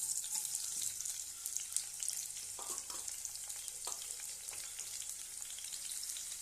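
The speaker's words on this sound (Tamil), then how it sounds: "வெங்காயம் போட்டு இது லைட்டாக வறுத்து விட்டுக்கலாம்" Onions frying lightly in hot oil in a pan for egg idiyappam biryani, a soft steady sizzle with a few faint clinks of stirring, quiet and continuous with no talk.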